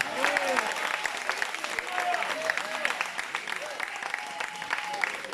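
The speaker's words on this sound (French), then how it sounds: "On peut encore l'applaudir." Outdoor crowd applause for a young pushcar racer at a soap box derby in Villardonnel, steady dense clapping with scattered whistles and voices mixed in over the full stretch.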